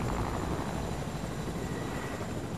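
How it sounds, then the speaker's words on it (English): A helicopter in Fortnite whirs with loud, dense, steady rotor noise that fills the whole stretch, with no voices over it. "Helicopter."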